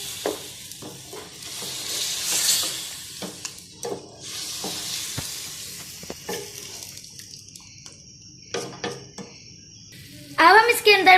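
Marinated chicken fries in a pan with browned onions for biryani, sizzling steadily while a utensil stirs and scrapes against the metal in repeated bursts close by.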